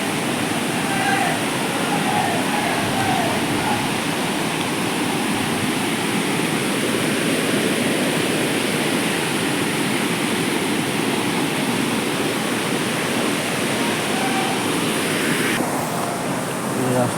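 Large waterfall at Semili in Nayagarh, a steady, dense roar of falling water that fills the whole clip at constant loudness, with no pauses or changes.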